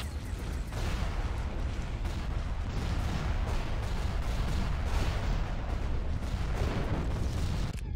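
Flak guns and artillery pound away without pause in a continuous, dense barrage of booms and blasts during a space battle in the Awakening of the Rebellion game.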